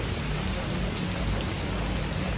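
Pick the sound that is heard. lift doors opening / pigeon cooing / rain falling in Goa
rain falling in Goa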